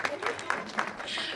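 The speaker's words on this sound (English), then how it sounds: "Clap again." An audience at a film industry panel gives a short burst of clapping, several distinct claps standing out at close range.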